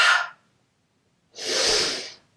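Two breaths during a Pilates exercise: a short, breathy puff, a pause of about a second, then a longer, fuller exhalation, close and clear.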